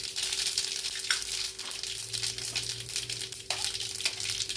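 Mustard seeds and fenugreek fry in hot oil, giving a steady, close sizzle with sharp crackles and pops throughout.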